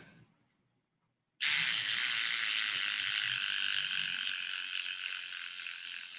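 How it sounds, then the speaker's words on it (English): A cordless electric shaver buzzes loudly and close up, running steadily after a brief quiet moment as it trims around a mustache and goatee, with no talking over it. "then you see what I'm doing with the shaver."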